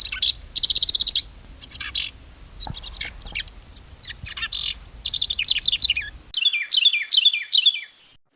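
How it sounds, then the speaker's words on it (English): Two wren songs in sequence: a house wren's bubbling, jumbled cascade of high chirps and trills, then a Carolina wren's loud, clear repeated rolling phrases, both close and alone without talk. "You just heard the song of the house wren followed by that of the Carolina wren"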